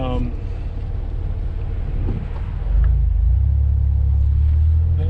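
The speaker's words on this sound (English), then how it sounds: "We are idling a lot smoother than we used to." A low, steady car engine rumble idles close by with the AC on after throttle body cleaning, getting a bit heavier partway through, with faint wind noise and no clear talking.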